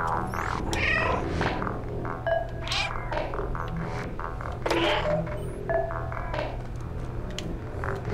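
A cat meows again and again in the video game Stray, close and clear over a steady background hum and game music, with a few taps and soft purring tones between the calls.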